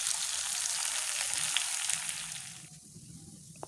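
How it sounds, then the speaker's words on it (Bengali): Chicken fries in a little oil with a loud, close crackling sizzle that holds steady, then suddenly drops to a quieter simmer with a few faint pops. "চিকেন আমি অল্প তেলে ভাজবো।"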